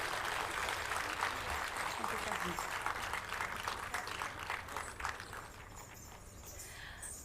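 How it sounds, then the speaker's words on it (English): Audience applause at an auditorium summit ceremony honouring performers, a dense steady clapping that holds for several seconds and then thins slightly toward the end. "Give a big round of applause to all of them."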